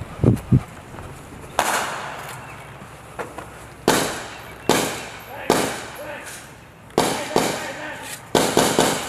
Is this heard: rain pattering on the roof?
no